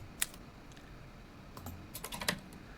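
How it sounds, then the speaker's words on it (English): A computer keyboard typing sound effect plays in Roblox Studio: a sparse burst of faint key clicks, one early tap then a quick cluster of keystrokes near the end, with no talk. "The next sound I wanna look for is a typing sound."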